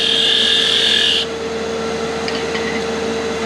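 On a wood lathe, a tool cuts a tenon on a Christmas sphere ornament cap, producing a loud, hissing scrape over the machine's steady hum; the cut stops after about a second, leaving the lathe humming alone.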